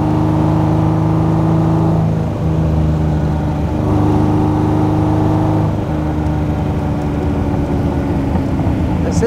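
A 1938 BMW 328 Roadster's engine runs steadily, a close, loud, droning note with slight rises and dips in revs, no voices over it.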